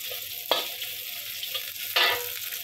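Ground pork sautéing in a pan, giving a steady low sizzle broken by two louder bursts of hissing as the meat is stirred and tossed.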